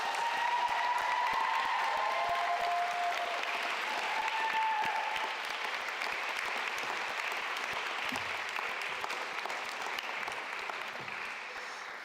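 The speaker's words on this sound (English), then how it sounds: "let's give them a round of applause for all they've done to support you" Sustained applause from a large graduation commencement audience fills the hall, steady and dense throughout, with a few faint tonal sounds early on and no speech.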